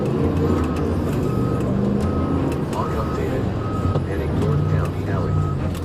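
A stolen car drives in reverse during a police chase in the United States, with a steady engine and road rumble, beeping, and brief tonal squeals. A voice talks over the traffic noise throughout.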